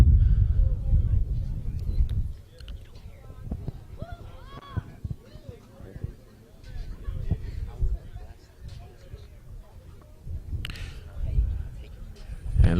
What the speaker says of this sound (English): It's very windy out here, swirling wind.